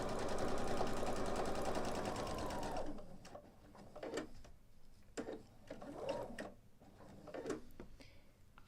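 A sewing machine stitches through a quilt-as-you-go block: a loud, steady whirring run for about three seconds, then a pause followed by short bursts of a few stitches with soft handling noises in between.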